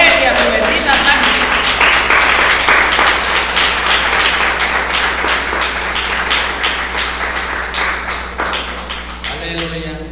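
A Messianic congregation claps loudly and continuously during a church service, a dense wash of many hands near and far that gradually fades toward the end.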